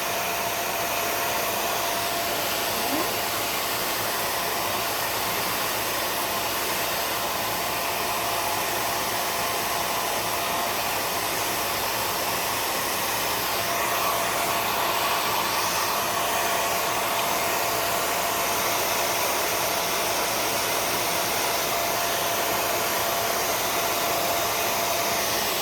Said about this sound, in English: And blow drying your hair is not rocket science.